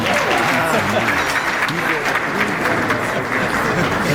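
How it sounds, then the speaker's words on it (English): A seminar audience gives a sustained round of applause, dense and steady for the whole stretch, with voices murmuring underneath the clapping. "Ladies and gentlemen, Mr. Mukoko, with a round of applause."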